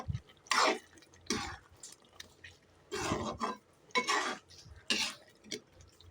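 A ladle scraping and clanking against a pan while stirring sliced ivy gourd curry with slit green chillies, in several separate bursts of metallic scrapes with brief wet stirring sounds between them, close by and with no talking.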